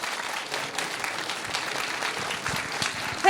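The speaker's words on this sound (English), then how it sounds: "please give another warm round of applause for Casey" Warm applause from a conference audience follows a talk on software accessibility at the 38C3 hacker congress, a steady wash of clapping hands lasting a few seconds.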